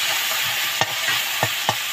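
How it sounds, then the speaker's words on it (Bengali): Potato frying in a pan, a steady loud sizzle close up with a few brief scraping stirs breaking through, no voices. "আলুটাকে আমি ভেজে নেব।"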